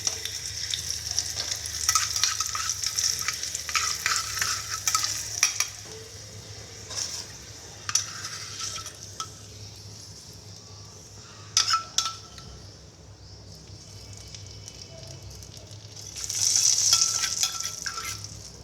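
Tadka of Kashmiri red chili sizzling and crackling in hot oil, a steady fry with bursts of spattering and occasional clinks of a spoon against the pan.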